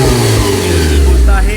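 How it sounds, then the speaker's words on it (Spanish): A car engine is revved hard at full throttle, a loud, close mid-pitched roar that holds for a moment and eases slightly at the end. "Lo voy a acelerar a fondo"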